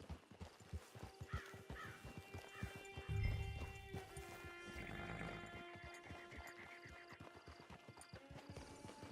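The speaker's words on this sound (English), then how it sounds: "Get your horse." Hooves clip-clop at a steady walking rhythm as a horse moves in the Red Dead Online video game, with a brief snort and faint background ambience.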